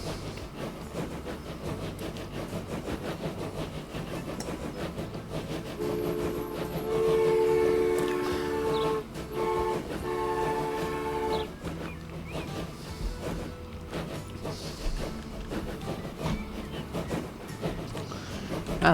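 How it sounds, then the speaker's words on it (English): A train in the game Transport Fever 2 rolls steadily along its track with a rumbling, clattering rhythm, a whistle-like tone sounding in the middle, faint and continuous under a low background. "So I'm going to let this train run,"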